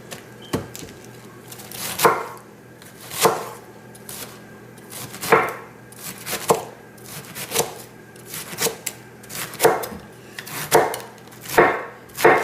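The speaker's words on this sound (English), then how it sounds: "I'm just going to chop them up, have nice little strips of cabbage for the stir fry" Repeated knife chops slicing cabbage into strips on a cutting board, crisp thuds at an uneven, steady pace, close up with no talking.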